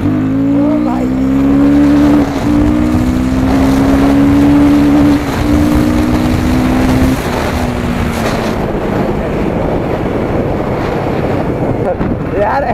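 A Royal Enfield Guerrilla 450 motorcycle engine roars with rising harmonic pitch as it accelerates hard past 100 km/h, heavy wind buffeting throughout, the revving tone fading into rushing noise.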